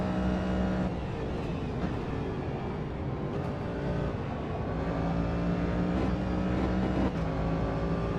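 Racing car engines in the video game Automobilista 2 roar steadily, with rising and falling revs and occasional shifts, a continuous mechanical drone throughout.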